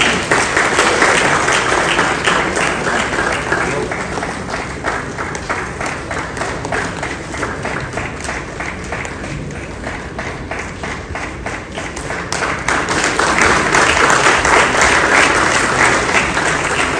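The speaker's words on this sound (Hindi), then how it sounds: "तालियां बजती रहनी चाहिए।" Sustained audience applause at a formal welcoming ceremony for guests, loud dense clapping throughout, dipping a little in the middle and then swelling again toward the end.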